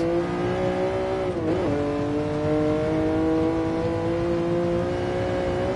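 A Jaguar XJ13 race car in Gran Turismo Sport on the Nordschleife holds a loud, steady high-revving engine note, with a brief dip and recovery as it shifts, from a close in-car perspective with no talk.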